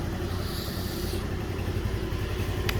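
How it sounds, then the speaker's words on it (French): A four-stroke scooter engine idles steadily at close range, a constant low, even hum with no talking over it. "Et même le bruit du scooter, je trouve qu'il est beaucoup mieux maintenant."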